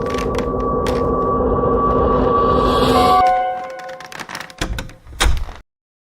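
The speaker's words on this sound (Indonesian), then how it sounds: "Ku gebrak pintu kamar sekuat tenaga." A bedroom door is struck hard several times in a horror audio drama: a steady hum first, then a scattered series of loud, heavy thuds close by.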